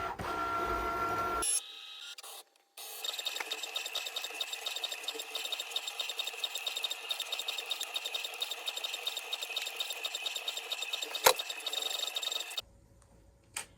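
An electronic cutting machine cuts fern shapes from fabric with a steady, rapid mechanical ticking and whirring that runs for about ten seconds. Quieter handling noises come before and after the run, and there is one sharp click partway through.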